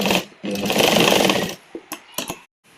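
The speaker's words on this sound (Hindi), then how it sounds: "अब हम इसमें यहाँ पर आपस में सिलाई लगाएंगे दोनों।" A sewing machine stitches the lining of a baby frock, running in one steady loud burst for about a second before stopping, followed by a few short clicks and handling knocks.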